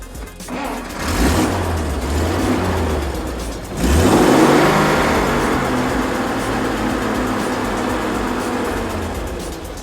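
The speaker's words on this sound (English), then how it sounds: "start the car up, and let's hope I don't get any misfires" A car engine cranks and catches, revs up, then settles into a steady running idle, loud and close, after spark plug maintenance on a Honda Odyssey.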